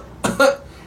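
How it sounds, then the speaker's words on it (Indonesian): A single short throat clearing, a brief rough burst followed by a slightly louder voiced rasp, close up and alone in a quiet room. "kemudian berdehem"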